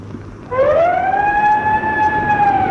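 An old ship's siren sounds a signal, a single loud, sustained wail that swells quickly and holds its pitch, rising out of low background rumble.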